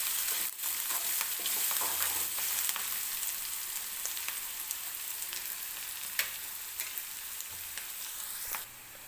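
Onion fries gently in a pan until golden, giving a quiet, even sizzle with scattered small crackles and light pops throughout.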